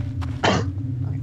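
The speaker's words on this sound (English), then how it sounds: "That was a cough." One short, sharp cough stands out over a steady low hum.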